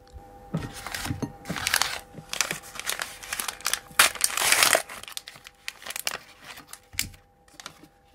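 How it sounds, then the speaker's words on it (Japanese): Nishikido matcha momiji, a Hiroshima Japanese sweet, being unwrapped from its packet: close crinkling and crushing of the wrapper in irregular bursts, loudest in the middle, with no talk. "開封してみるとこのようなお菓子出てきました。"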